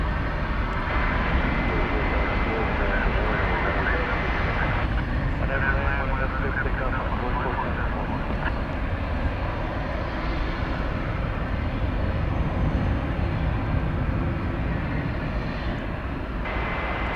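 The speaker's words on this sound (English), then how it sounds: "There goes a FedEx taking off from the east side." FedEx cargo plane taking off from the east side at DFW Airport, a steady, moderately distant engine roar throughout, with people talking over it.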